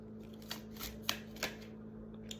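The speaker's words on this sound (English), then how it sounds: "I'm gonna pull some angel cards." A deck of angel cards is shuffled at close range in a few soft riffling bursts against a quiet room hum, with no talking.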